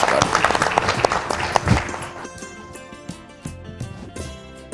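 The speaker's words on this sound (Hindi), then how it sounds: "जोरदार तालियों के साथ" An audience at a Hindi addiction-awareness event applauds as a guest is called up, with clapping loud at first, then thinning into scattered claps beneath music and murmuring.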